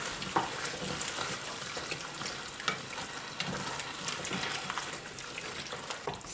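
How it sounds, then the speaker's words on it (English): Tomato sauce for lasagna with crushed tomatoes bubbling in a heavy pot, a continuous crackling sizzle with soft pops, steady and moderately quiet with no talking. "See, that's already bubbling away nicely because this pot really holds its heat really well."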